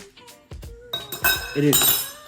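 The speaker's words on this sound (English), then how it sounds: "I dropped my spoon" A spoon clinks against a dish in a kitchen while Thai beef panang curry is being tasted, a couple of bright metallic taps up close, with a person speaking around them.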